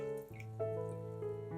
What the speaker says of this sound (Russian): К желткам наливаем 200 мл молока